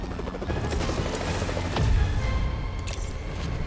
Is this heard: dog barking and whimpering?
no